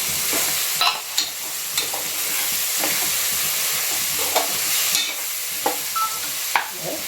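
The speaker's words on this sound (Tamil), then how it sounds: "தக்காளி வதங்கி வருது" Tomatoes sautéing in a pan with oil, chili powder, coriander, mint and green chilies, a steady close sizzle and hiss broken by repeated scraping stirs of a spoon against the pan.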